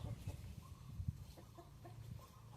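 Soft, low chicken clucks repeat irregularly against a quiet background, with a few brief higher calls mixed in.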